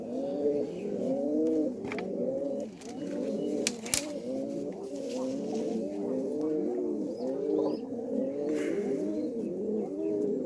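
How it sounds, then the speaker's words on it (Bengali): Several pigeons in a cage coo continuously in soft, overlapping rolling calls, close by, with a few faint knocks and rustles in the background. "এখন খাঁচাটাতে এখন অন্য সে কবুতর হাজির, আর এই যে এটা নতুন কবুতর"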